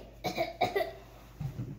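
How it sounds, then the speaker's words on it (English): Someone coughs indoors during a Pokémon card pack opening, three sharp close coughs in quick succession followed by a lower, softer cough, with no talking. "There's a lot of coughing here today."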